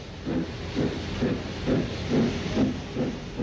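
A vintage Southern steam locomotive at Brighton hisses steadily, with rhythmic chuffing pulses roughly every half second riding over the continuous steam.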